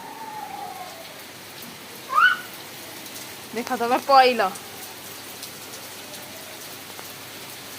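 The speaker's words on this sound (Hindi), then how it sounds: "जोरे वर्षा होची" Heavy rain falls steadily in an even, continuous hiss, while a few voices speak briefly over it.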